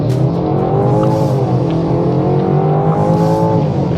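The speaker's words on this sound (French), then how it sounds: "Allez, petite accélération." A 2025 BMW X3 M50 SUV accelerates on the road, its combustion engine giving a steady, loud, rising drone with climbing harmonics and no talk over it.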